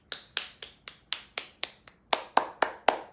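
Crisp, bright hand claps from a single person in a movement class, about a dozen sharp strikes at a steady rhythm, close and clear with no talking.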